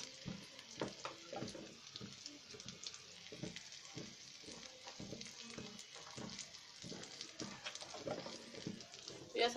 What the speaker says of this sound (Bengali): আমরা এখন এই পেঁয়াজটা ভাজতে দিয়ে দিচ্ছি